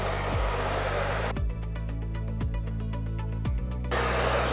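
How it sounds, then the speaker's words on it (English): A handheld hairdryer blows steadily while curly hair is dried for volume, a constant close whooshing hum whose pitch shifts briefly as the airflow changes, with no talking. "it might be easier for you to hold the hairdryer by the barrel"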